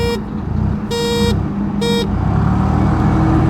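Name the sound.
scooter horn honking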